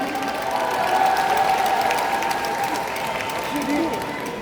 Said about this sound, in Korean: 다시 한번 격려 박수 부탁드립니다.